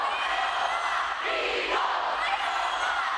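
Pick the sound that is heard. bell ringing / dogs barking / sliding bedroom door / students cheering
students cheering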